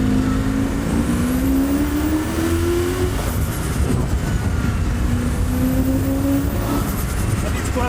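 A turbocharged TVR engine revving hard in boost mode, a loud, continuous roar with rising and falling pitch as the revs climb and drop, heard close up for the whole stretch.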